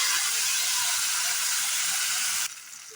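Spice paste fries loudly in a pan for a vegetarian soybean curry, a dense steady sizzle that suddenly drops to a softer hiss near the end; no one speaks.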